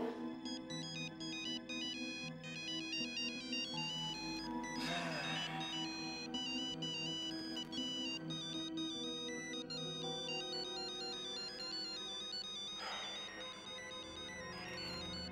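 A phone rings on and on with a repeating electronic ringtone melody, steady and moderately loud, with no one answering and no talking over it.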